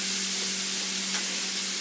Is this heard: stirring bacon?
yes